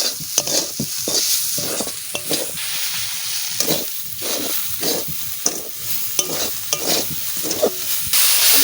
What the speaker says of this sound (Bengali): নারকেল ভাজা ভাজা হয়ে গেছে